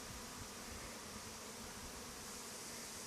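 Honeybees fly around hive entrances in a garden apiary, a faint, steady buzzing drone with no pauses, heard from a short distance alongside soft background hiss.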